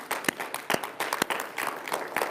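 A church congregation clapping loudly together, a dense burst of hand claps with uneven rhythm, close and lively.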